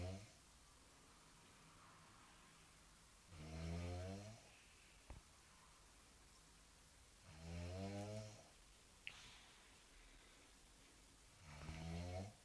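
A girl snoring loudly in her sleep, with three long, rasping snores coming at roughly four-second intervals and quiet breathing between them.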